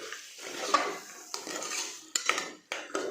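A spoon scrapes and knocks against a pan while fresh green peas are stirred and mixed, several separate clattering strokes with a faint sizzle underneath, close and moderately quiet.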